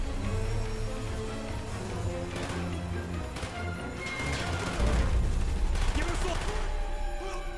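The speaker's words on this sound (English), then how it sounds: "Oh, this is a Polis submachine gun." Polis submachine gun fires in Call of Duty: Black Ops on the Cosmodrone level, with rapid automatic bursts, loud and close, mixed with in-game explosions and crashing impacts.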